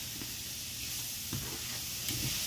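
Vegan cauliflower fried rice stirred in a hot pan, sizzling with a steady hiss and a few soft scraping stirs, close and continuous with no talk.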